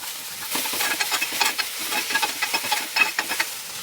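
Onions and chopped vegetables sauté in a pan for masala oats: a close, crackling sizzle broken by quick, rhythmic bursts of spatula stirring, with no talking.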